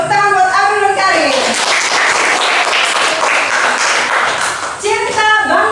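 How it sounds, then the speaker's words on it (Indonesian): Applause for two children, Abdul and Karin, at a school lesson on ads, slogans and posters: loud, dense clapping fills the middle seconds, with a speaking voice before it starts and again as it fades. "Tepuk tangan buat Abdul dan Karin."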